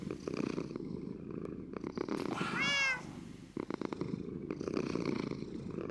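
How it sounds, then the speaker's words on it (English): Cats in Minecraft purring, a soft rumbling purr running steadily under a brief drawn-out meow in the middle, fairly close and clear. "we listen to the purring of well-fed kitties"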